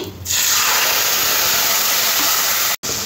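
Black cumin, dried red chillies and a prepared spice paste dropped into hot fish-frying oil, bursting into a loud, steady close sizzle that holds, with one brief cut near the end.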